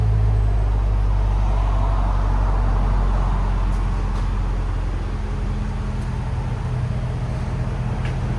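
A 2005 Jaguar XK-R with a 4.2L supercharged V8 and X-pipe exhaust idles steadily, a smooth low rumble held at constant level throughout, close by with no talking.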